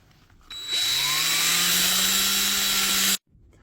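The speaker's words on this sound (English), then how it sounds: "a little bit of a wire brush in my drill and go for it" A power drill fitted with a wire brush spins up with a whine and a harsh scrubbing rasp while cleaning grit from a Toyota Supra hub. It keeps grinding steadily for under three seconds, then cuts off abruptly.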